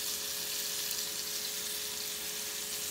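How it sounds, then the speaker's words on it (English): Beef pieces sizzle in a hot pan on an Aga cooker, a steady, even hiss throughout with a faint constant hum beneath and no talking. "You hear it sizzling."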